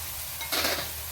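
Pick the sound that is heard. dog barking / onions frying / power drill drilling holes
onions frying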